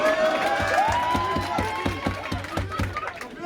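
An audience at a Purim event claps in a fairly regular rhythm, with cheering and chatter around the claps and a voice speaking on top.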